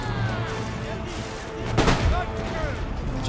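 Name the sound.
musket gunfire in video game Empire Total War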